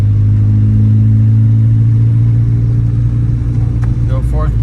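An Acura Integra with a B18C1 engine, ACT clutch and lightweight flywheel, droning loudly and steadily from inside the car as it pulls through the gears, with a voice speaking over the engine.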